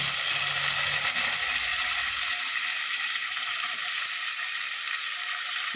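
Tomatoes and salt sizzle steadily in a hot pan while being sautéed for a Kerala-style sardine fish curry, giving a loud, even frying hiss with a brief low rumble at the start.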